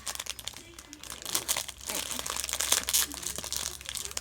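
A Sumikko present is unwrapped. Its packaging gives off bursts of crinkling and rustling plastic or paper, close and uneven, growing busier partway through, with a faint voice in the background.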